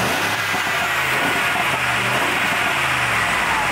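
A car engine growls loudly and close by, a steady low rumble with slight pulsing changes in pitch, probably from a slightly modified exhaust, heard without any talking.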